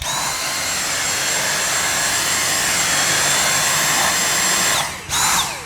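A Dyson V6 Fluffy cordless vacuum cleaner runs in regular mode with a steady, loud high-pitched whine and rush of air, briefly dipping near the end before picking back up.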